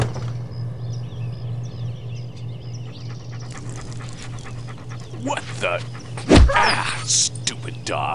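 A dog in Postal 2 pants in quick, breathy rhythm close by, with a soft whimper among it, while someone speaks briefly and a sharp loud thump cuts through near the end.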